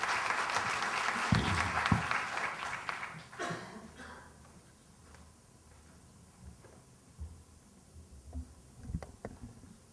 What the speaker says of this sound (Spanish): les pido un aplauso para Federico